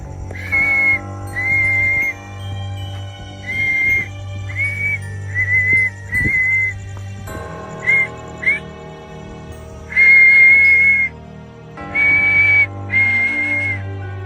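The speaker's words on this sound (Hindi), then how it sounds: "मैं ज़ोर ज़ोर से सीटी वगैरह बजा रहा हूँ" Loud, shrill whistling at night in a deserted area, repeated as short and longer sustained blasts separated by pauses, close and piercing over a steady low hum.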